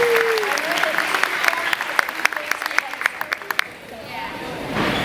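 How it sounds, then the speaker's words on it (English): An audience gives a farewell round of applause for Angie McLean, a dense burst of clapping that swells then fades out, with a voice and murmuring at the start. "So if I give Angie a round of applause"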